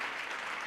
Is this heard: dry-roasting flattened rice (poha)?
no